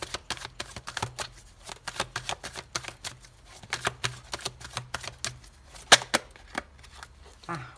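Cards for a tarot reading are shuffled and drawn in a steady run of soft, crisp riffles and flicks that stay close and fairly quiet, with one sharper snap near the end and a faint voice murmuring beneath them.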